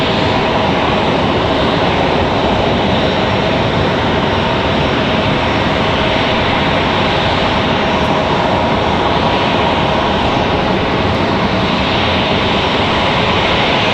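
Jet airliner engines at Raleigh-Durham International Airport, with a 737 moving near the gates, give a steady, loud broadband roar that holds constant throughout with no talking.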